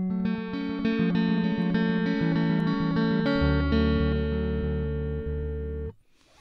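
Acoustic guitar picks out a song at full speed, a clean run of plucked notes with ringing low bass strings, played alone and close until it stops abruptly near the end.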